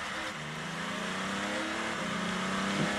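An Audi Le Mans prototype race car at the 2008 Le Mans Series Nürburgring 1000 km, recorded on board, gives a steady, fairly subdued engine drone with slight pitch shifts as it accelerates and eases through the laps.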